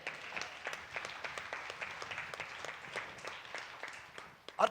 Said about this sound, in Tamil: கைத்தட்டு பார்க்கலாம்.